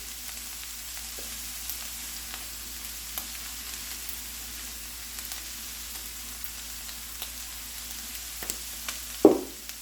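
Taco meat seasoned with onion powder, garlic powder and pepper fries in a pan over heat just below medium, a soft continuous sizzle broken by occasional stirring scrapes and one louder clatter near the end.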